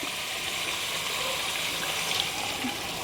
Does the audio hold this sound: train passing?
no